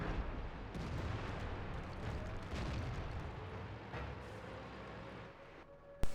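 A tank cannon shot in World of Tanks on the Winterberg map, fired by an AMX ELC bis light tank: a single sharp, loud blast at the very end, after a stretch of low, steady rumbling battle noise.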